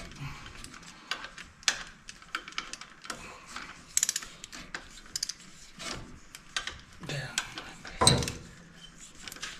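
A ratchet tightens the bolts of a Front Runner rack on the front of a vehicle in a garage, giving short bursts of rapid clicking between quieter gaps. The sound is close and moderate in loudness, and a voice speaks in places.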